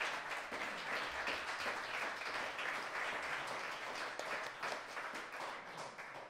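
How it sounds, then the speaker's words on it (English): An audience at an arts gathering at the Timucua venue gives a big round of applause, a dense, sustained wash of many hands clapping with no speech. "Big round of applause"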